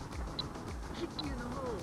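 A small putting metronome clipped to a hat and set to 75 beats per minute gives two faint, high ticks roughly 0.8 seconds apart beneath a low background murmur.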